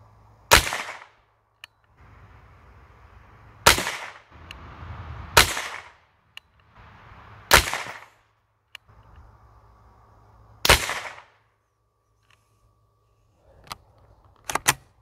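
Gunshots from CCI Mini Mag ammunition fired at bullseye targets on an outdoor range: six sharp, loud single reports spaced irregularly a second or more apart, each with a short ringing tail, then a few fainter clicks.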